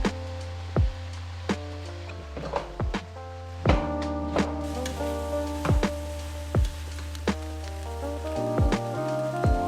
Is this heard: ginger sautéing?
yes